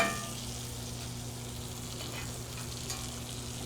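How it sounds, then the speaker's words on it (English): Steak sizzles and fries steadily in a cast iron pan with butter being basted over it, a close, even crackle with a brief stir partway through and no voices. "we're going to go through and just baste it again before we remove them from the pan"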